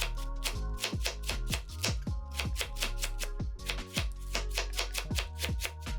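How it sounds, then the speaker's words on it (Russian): White cabbage, half a kilogram, finely shredded with a knife on a board: a rapid, steady run of crisp close chopping strikes continuing throughout, with no talk. "Полкилограмма белокочанной капусты мелко шинкуем ножом."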